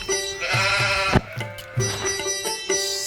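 Goats bleat close by, several quavering calls in quick succession that fill the short stretch.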